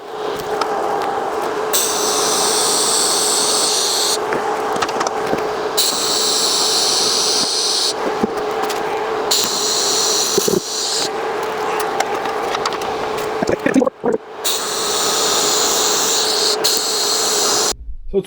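Steady hissing, crackling buzz of TIG welding on a stainless steel exhaust in a cramped home setup, running in long continuous stretches broken by short pauses where the arc stops and starts again.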